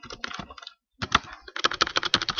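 Rapid clacking of keys on a computer keyboard while an email address is entered into a web feedback form, a close, dense run of keystrokes with a brief pause partway through.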